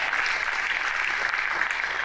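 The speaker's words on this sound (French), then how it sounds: "Applaudissez très fort pour lui, s'il vous plaît." An audience at a live stand-up comedy show at a festival in Congo breaks into steady applause, a dense, even roar of clapping that holds at the same level throughout.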